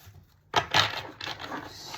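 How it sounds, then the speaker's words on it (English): A deck of tarot cards being shuffled by hand, with a few quick papery riffles and rubbing bursts close up after a short quiet start, no talk over it. "Let's shuffle it really well, because we're getting like repeating cards"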